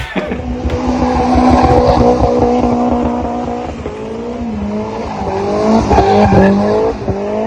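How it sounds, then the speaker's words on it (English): A Toyota MR2 does a long, loud burnout with a sustained high tire squeal and a droning engine that waver in pitch throughout. "He did a 1-minute burnout on that MR2"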